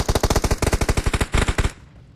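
Rapid automatic fire from an M4 rifle in PUBG Mobile, a steady burst of around twenty close, loud shots that stops abruptly and leaves a short fading echo.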